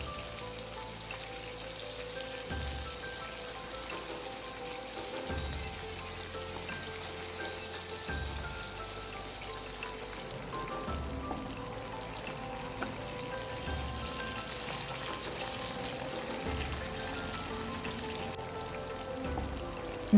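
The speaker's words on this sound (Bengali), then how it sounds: "এবার মাছের টুকরোগুলো এক এক করে তেলে দিয়ে দিতে হবে" Pieces of rohu fish frying in hot oil over a medium flame, a soft, steady crackle and spatter that runs unbroken, with faint dull knocks recurring in the background.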